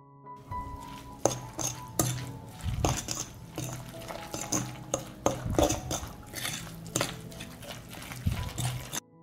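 A dish is stirred in a pot after adding dry organic seasoning, giving repeated close clinks and scrapes of a utensil against the cookware with a soft sizzle beneath, steady and rhythmic over several seconds, with no voices.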